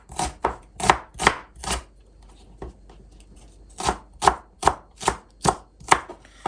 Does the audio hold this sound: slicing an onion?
yes